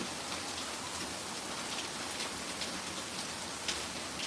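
Hard rain falling with water spilling off the gutters, a thick unbroken wash of hissing spatter at an even, fairly loud level, nearby, with no voices.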